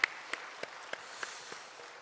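Church congregation applauding at a Sunday evening service, a dense, even patter of many hands with a few rhythmic louder claps standing out, steady throughout.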